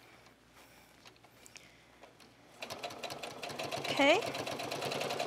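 A domestic sewing machine runs steadily, stitching down the second side of a strap for cosplay shoulder armor, starting partway through after a quiet stretch and staying fairly close, with a brief spoken word over it.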